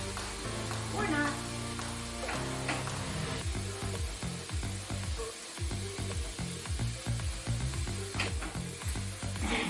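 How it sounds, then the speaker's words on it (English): Garlic and onions sauté in a pan, giving a steady sizzle that sits under rhythmic background music with a voice talking at times. "Saute off those garlic and onions."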